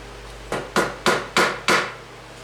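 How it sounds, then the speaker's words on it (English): A small brass hammer taps a metal fret into the slot of an electric guitar neck, giving five sharp, evenly spaced close strikes over a quiet background. "This little brass hammer,"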